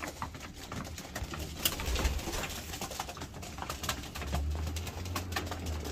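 Pigeons cooing at a loft where the birds wear leg rings, a low soft cooing running steadily through the clip over a busy, noisy background.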